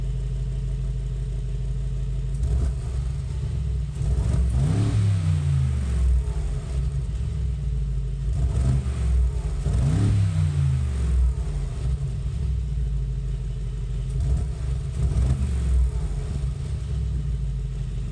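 A 2019 Mercedes-AMG G63's V8 idles with a deep, steady rumble, broken by several sharp blips of revving that rise and fall back, roughly every few seconds.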